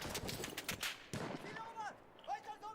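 Gunfire in Battlefield 1, a quick run of rifle shots and impacts early on, followed by fainter whizzing ricochet-like tones, with someone talking over it.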